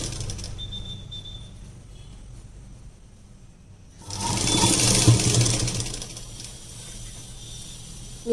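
Sewing machine stitching a sleeve for a long gown made from an old saree; the machine runs steadily at moderate volume from about four seconds in, after quieter room hum.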